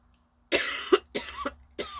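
A few harsh coughs in quick succession, close and loud, with brief pauses between bursts and no talking.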